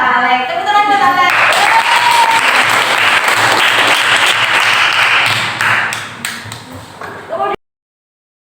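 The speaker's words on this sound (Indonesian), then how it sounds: "Tepuk tangan buat Alex" A classroom of students claps for a classmate named Alex, a dense burst of applause lasting several seconds before thinning out and stopping abruptly; a voice speaks briefly at the start.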